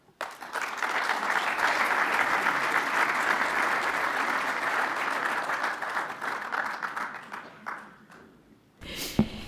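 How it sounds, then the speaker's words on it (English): Warm audience applause welcoming a pensions and financial markets panel, loud and steady for about eight seconds before fading out, with a brief noise at the end. "Let's welcome them with a warm applause"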